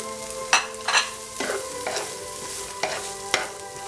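Onion, crushed garlic and broken cashews frying in a pan for a Kerala-style paneer curry, a loud close sizzle broken by several scraping stirs and spatula knocks, with no talk.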